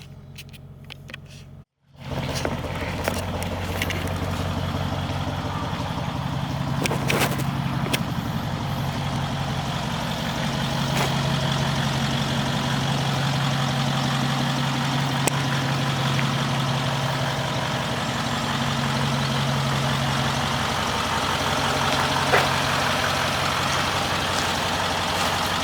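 A Range Rover Sport TDV8 diesel with newly fitted turbos runs steadily, a deep continuous engine drone with a low rumbling hum that stays loud and close throughout, broken only by a brief dropout near the start.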